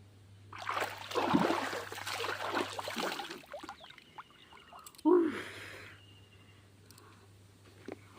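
Water splashes and trickles in a village pond as someone bathes, with a burst of sloshing near the start and a sharper splash later, close and moderately loud.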